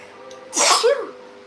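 A single sharp sneeze bursts out close by, preceded by a quick intake of breath, in an otherwise quiet room.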